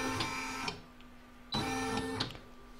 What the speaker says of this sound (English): I put my set my machine back to stitch round number 9 again